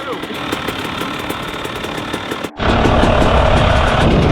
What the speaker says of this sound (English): You guys ever seen a buddy start a bike like this?